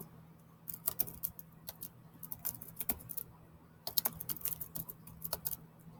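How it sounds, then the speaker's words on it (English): Quiet clicking of fingers typing on a computer keyboard, irregular clusters of light keystrokes with brief pauses, fairly close and alone over a low steady hum. "so I'm going to type it in."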